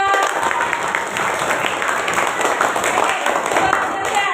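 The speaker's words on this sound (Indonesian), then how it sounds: "Hebat, tepuk tangannya dong." A class of students claps for a classmate who won a badminton prize, producing a loud, continuous patter of hands in a room, with some voices mixed in.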